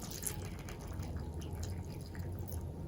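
Pineapple syrup is poured from a can into a bowl of fruit chaat, making a soft, steady liquid trickle and drip that runs continuously with no voices.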